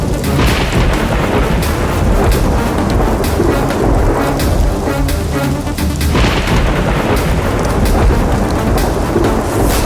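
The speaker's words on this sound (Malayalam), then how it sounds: "നല്ല മിന്നലുണ്ട്" A thunderstorm with heavy rain: a dense, loud, continuous roar of rainfall runs throughout, with deep rolling thunder rumbles swelling underneath and no voices.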